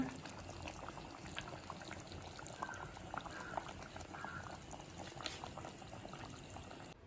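Steady bubbling and simmering of chicken curry in a pot on the stove, a continuous soft gurgle with occasional pops, fairly close and without talk.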